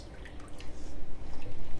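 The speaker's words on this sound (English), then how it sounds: "I'm raising it up so some of that water can come out." Water dripping and trickling off a raised grouper head being readied for Jamaican curry, a steady close patter of drops with no talk.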